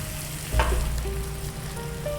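Beef burrito filling fries in a pan with a continuous sizzle, and one sharp scrape of stirring stands out early on over the steady crackle.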